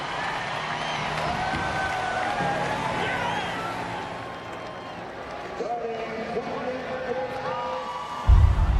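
Heavily partisan NASCAR crowd of 160,000 on their feet at Bristol Motor Speedway, a steady distant roar of cheering and whoops with announcer talk over it and a louder burst near the end.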